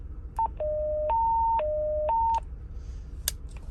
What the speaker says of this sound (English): is programmed for evacuation tone. And I gotta tell you, this thing is really loud.